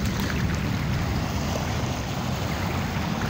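Steady wash of sea waves on the Manila Bay shore, a continuous broadband roar with strong low rumble, fairly loud and constant with no talk.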